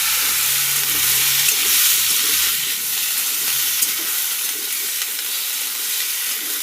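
Potatoes tossed into hot oil in a wok with nigella seeds and a dried red chilli, giving a loud, steady sizzle and hiss close by with faint stirring scrapes and no voices.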